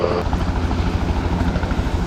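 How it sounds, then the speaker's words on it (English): A tour helicopter over the Bay of Islands in New Zealand, its rotor chop steady and fairly loud as it passes overhead, with no voices. "A helicopter tour there."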